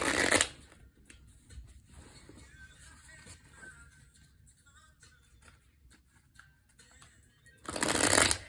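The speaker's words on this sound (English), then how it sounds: "I'm going to begin shuffling." A Tattoo Tarot Ink and Intuition tarot deck being shuffled, a burst of riffling cards at the start, soft handling and faint taps in between, then another loud close riffle at the end.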